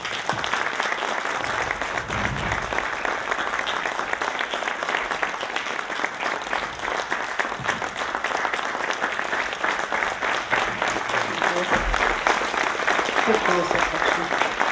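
Sustained audience applause at an award ceremony honoring the 2011 citizen of the year in Sierpc, Poland, with dense even clapping filling the room for the whole stretch and no break.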